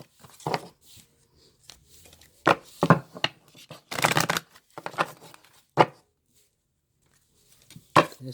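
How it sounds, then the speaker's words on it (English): Tarot cards shuffled by hand in a quiet room, with soft, irregular riffling and rubbing bursts separated by pauses, close and fairly faint, no talking. "I'll do a little bit of shuffle, just so the whole thing is organic"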